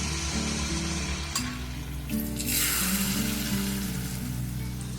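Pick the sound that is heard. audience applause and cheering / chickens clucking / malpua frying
malpua frying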